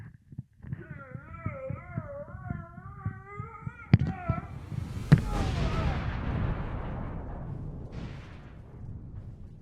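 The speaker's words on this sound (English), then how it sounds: "That was quite the explosion." Explosion in the video game Red Dead Redemption 2: a sharp, loud blast bursts in after a stretch of wavering tonal sounds, then a broad rumbling roar lingers and slowly fades to the end.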